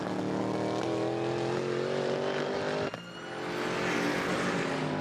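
A race car on a slow warm-up lap at a Midwest track event gives a loud, sustained engine note with a brief drop in throttle partway through, then builds again.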